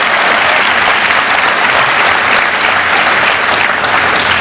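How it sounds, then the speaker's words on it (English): An audience at an evening event commemorating the Civil Rights Movement gives Isabel a round of applause, loud continuous clapping from a large crowd, unbroken throughout. "Give Isabel a round of applause"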